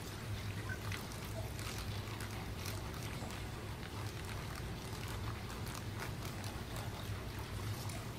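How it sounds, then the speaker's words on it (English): Aquarium water being poured into a small coral acclimation chamber: a continuous, faint splashing trickle with a soft watery hiss, steady and unbroken for several seconds. "I fill up my little acclimation chamber with half of their water"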